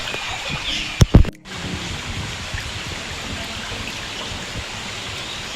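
Fast-flowing water from Lumbo Spring rushes in a steady, broadband hiss, with a couple of sharp knocks near the start before the continuous flow resumes.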